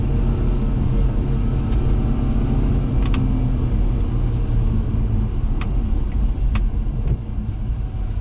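Daihatsu Hijet kei truck driving, a constant loud engine and road rumble heard from inside the cab, with a few faint clicks and rattles on top.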